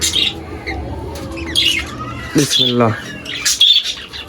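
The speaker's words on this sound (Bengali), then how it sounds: "এখানে কিন্তু আমার বাজরিকা পাখির তিনটা বাচ্চা দেখতে পাচ্ছি আমি" Three budgerigar chicks chirp and squawk up close in short raspy bursts in a garden aviary, while a person talks quietly nearby.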